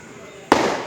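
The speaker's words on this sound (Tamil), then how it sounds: "கீழே வெடி செம்மையாக அடிக்காங்க பாருங்க." A single firecracker bursts in the street with a sharp, loud, close crack that follows a low steady hum and leaves a brief ringing tail.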